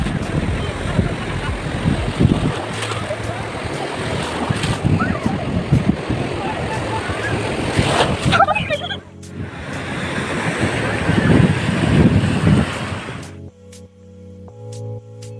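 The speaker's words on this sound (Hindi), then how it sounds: "लहरें काफ़ी तेज़ थी" Strong sea waves surge and crash continuously onto a beach at Udupi, India, a loud, rough wash of surf with wind buffeting the microphone and faint voices mixed in.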